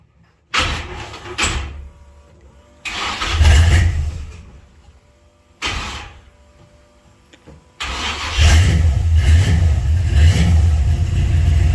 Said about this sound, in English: We're going to go ahead and start it up and see what happens here.